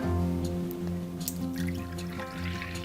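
Low-fat milk pours from a jug into a measuring cup on a counter, a gurgling trickle with rising liquid tones over a steady low hum, close and moderately loud.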